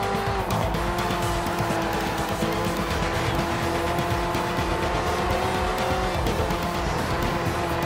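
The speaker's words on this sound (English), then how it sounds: "There's a spin out up ahead." Tires squeal and a car engine roars continuously as a race car skids and spins out in the GRID 2 racing video game, loud and sustained with no pauses.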